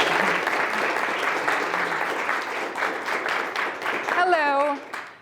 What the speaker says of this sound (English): Ladies and gentlemen, a nice round of applause for Dr.